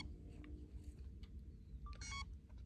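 A brief run of high electronic beeps near the end, heard over a low rumbling background like a car or engine hum.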